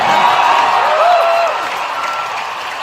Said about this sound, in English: Why are they cheering?